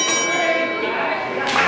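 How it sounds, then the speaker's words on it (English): Opening bell at a DOA professional wrestling event, a single bright ring with long sustained overtones over steady crowd noise, struck again near the end. "We have our opening bell."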